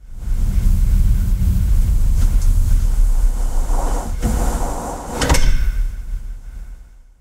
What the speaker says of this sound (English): and then we both stepped out and Kurt shut that huge door.